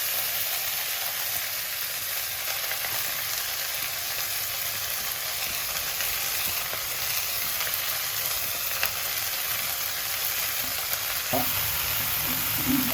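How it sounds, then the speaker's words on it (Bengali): Chopped mustard greens frying in hot oil, a steady close crackling sizzle that runs unbroken throughout, with a couple of faint clinks near the end. "তেলটা গরম হয়ে গেছে, এখন সরিষা শাকটা দিয়ে দেব।"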